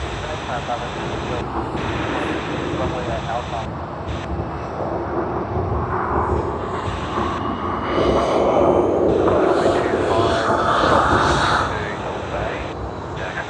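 An Airbus A350-900 from Guangzhou rolls along the runway at Sydney Airport, its jet engines giving a steady, loud roar that swells midway and then eases, with speech at times.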